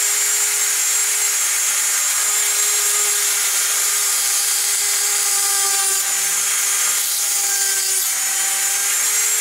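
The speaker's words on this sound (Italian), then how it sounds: "adesso andremo a praticare dei fori" A small power drill bores holes into a hen's eggshell while decorating Easter eggs, giving a steady, loud high-pitched whine that runs unbroken for the whole stretch with no talking.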